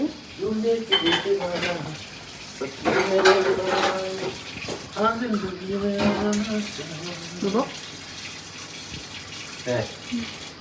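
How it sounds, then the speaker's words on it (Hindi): Dishes, pots and cutlery are washed under running tap water, with clinking metal and ceramic knocks over a steady stream, while people talk nearby. "बर्तन धो रहा हूँ"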